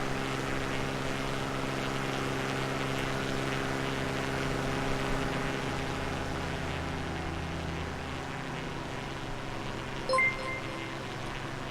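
Aircraft engine drone in a flight video game, a steady continuous hum with tonal propeller-like bands, moderately loud and unbroken, with a brief blip near the end.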